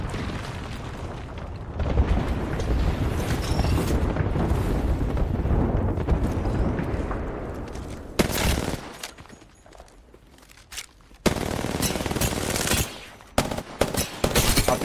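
Gunfire in a shooter game, dense bursts of shots mixed with booms, loud throughout with sharp breaks and renewed volleys in the second half, no talking.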